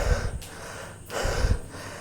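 Heavy panting after running in a dramatized audio story, with two or three loud, breathy gasps close to the listener, without speech.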